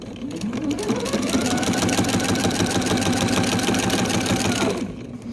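A sewing machine stitches along a quilt border seam made from scraps, its needle hammering in a fast, steady rhythm up close for several seconds before it stops.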